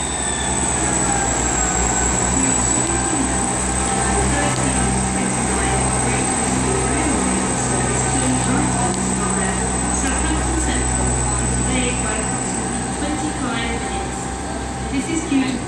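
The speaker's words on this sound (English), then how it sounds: "The Waterloo train now leaving." A Waterloo-bound train pulls out of Westbury station on the Great Western Main Line, a loud, continuous rumble of engine and wheels rolling close by throughout, with faint voices in the background.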